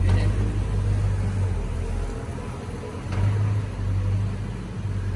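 A 1964.5 Ford Mustang convertible engine rumbles steadily close by as the car pulls away, a low throaty drone with a slight swell partway through.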